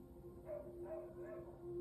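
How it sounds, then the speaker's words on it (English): Husky dog barking in the background, several faint distant yips and barks in an uneven rhythm over a steady low hum. "Oh, I hear that husky barking in the background."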